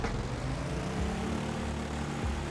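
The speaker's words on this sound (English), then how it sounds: "Make sure both your engines are running." Twin propeller engines of a De Havilland DH 84 Dragon biplane in a video game, run at full throttle as a loud, steady, close droning roar with a low buzzing pulse and no pauses.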